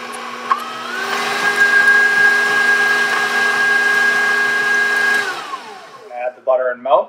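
Steady whirring drone of an electric mixer beating Greek yogurt batter for Koloucheh Fouman, running evenly for about five seconds before cutting off, followed by a few soft clinks.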